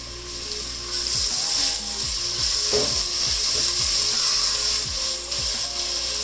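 Onion, garlic, ginger paste and green chillies frying in about a tablespoon of oil, a steady close sizzle running throughout, with occasional scraping clicks from a spoon stirring the pan for a kadhi pakora.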